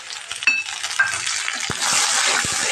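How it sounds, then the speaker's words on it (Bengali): Spice paste for a fish curry sizzles and fries in a pan while being stirred, a steady close hiss with scraping strokes and a couple of sharper clinks, growing denser toward the end. "এখন আমি এটাকে কষিয়ে নেব, সুন্দর করে কষিয়ে নেব, যাতে কাঁচা গন্ধটা না থাকে"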